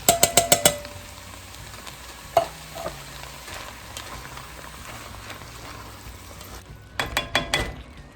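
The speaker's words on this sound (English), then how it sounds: "I'm going to add in my canned tomatoes" Canned tomatoes tipped into a soup pot: a quick burst of metallic clinks and clatter, then a soft sizzling simmer with occasional knocks, ending with another flurry of scraping taps against the can and pot.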